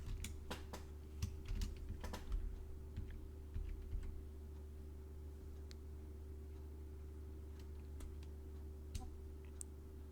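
Keystrokes on a computer keyboard, irregular bursts of clicks with pauses between, close but quiet over a low steady electrical hum, no talking.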